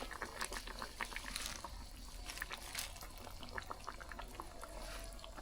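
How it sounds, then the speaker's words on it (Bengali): A fish curry with chopped spinach bubbling in a pot, soft popping bubbles and faint liquid trickles over a low steady hum, quiet and close. "এবার এটা একটু ফুটে সিদ্ধ হয়ে যাবে"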